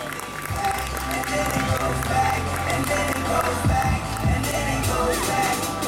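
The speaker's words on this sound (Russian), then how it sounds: "Давайте бурными аплодисментами проаплодируем человека, который проработал 50 лет на стадионе «Салют»." Applause from an audience at a cultural centre stage event honouring a longtime stadium worker, a steady dense patter of clapping with crowd noise throughout, fairly loud and continuous.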